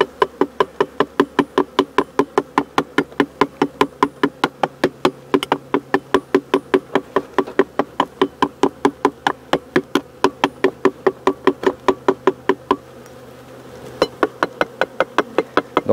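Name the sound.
tapping on beehive to drive bees upward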